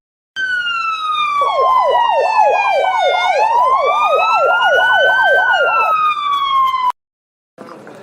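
A loud ambulance siren wails continuously, a rapid warbling yelp layered over a rising and falling tone, cutting off abruptly near the end.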